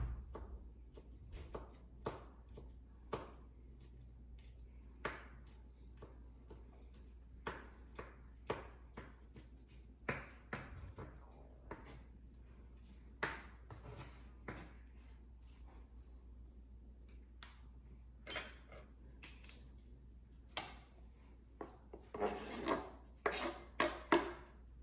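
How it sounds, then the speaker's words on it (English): A knife chopping garlic on a board, a rapid series of crisp taps and rasping cuts close up, irregular in rhythm and quickening near the end, with no talk. "Let's make sure we chop it up real good."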